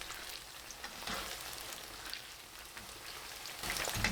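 Eggplants sizzle in hot oil in a wok while being stir-fried, giving a soft, steady crackling hiss with faint stirring scrapes, quiet and with no voices.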